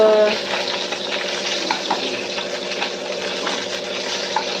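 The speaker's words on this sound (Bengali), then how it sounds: "মাছগুলো ভেজে তুলে রাখছি ভাজা হয়ে গেছে অনেকক্ষণ থেকে ভাজছি" Fish frying in a pan in a home kitchen, a steady dense crackle and hiss of hot oil held at an even level throughout, with no talking.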